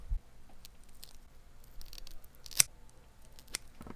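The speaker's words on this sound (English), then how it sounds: "Take your scissors and go right down the middle" A few quiet snips of scissors cutting down the middle of a soft plastic fishing lure, with a sharper click near the middle, over faint background rustle.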